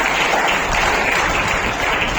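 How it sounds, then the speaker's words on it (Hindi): An audience at an award ceremony breaks into a brief burst of applause, a loud, dense, even roar of clapping with no talk over it. "तो उनके लिए एक जोरदार तालियां"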